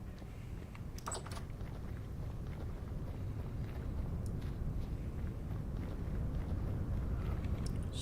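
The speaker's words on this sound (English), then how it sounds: "Super windy." Wind blows steadily in Vintage Story, a constant low rushing roar with faint scattered clicks above it.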